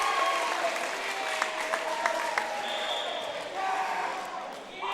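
Crowd in a gym at a high school volleyball match clapping and cheering steadily, dense applause with squeaks and shouts, under commentators talking.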